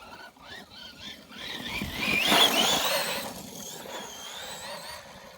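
A JLB Cheetah RC truck with a 2850kv motor on a 3S battery runs nearby, its electric whine rising and sliding in pitch as it speeds past, then fading.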